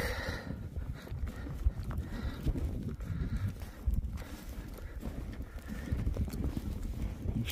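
Horses in a herd walk about, their hooves clip-clopping in an irregular patter at moderate distance over steady outdoor background noise.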